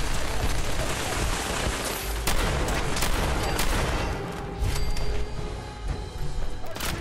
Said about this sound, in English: we're switching to the shotgun